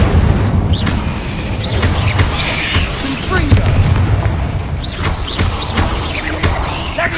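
Incendio fire spell bursts repeatedly in Hogwarts Legacy, dense booming whooshes and crackling blasts layered over a busy game soundscape, with voices speaking through parts of it.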